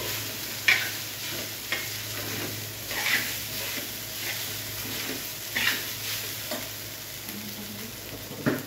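Sabudana khichadi (tapioca pearls) being stirred in a pan, soft frying sizzle throughout with a handful of scraping spoon strokes spaced a few seconds apart, close and alone.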